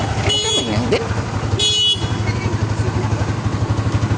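A Honda TMX155 motorcycle engine idles after a top overhaul, a steady loud close putter with rhythmic pulsing, briefly overlaid by short tonal horn-like beeps.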